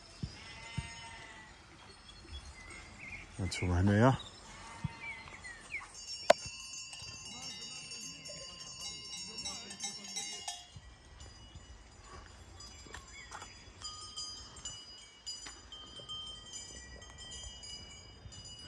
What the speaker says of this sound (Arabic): هادو الاغنام ديالهم كما تسمعوا، كل خروف ولا كل نعجة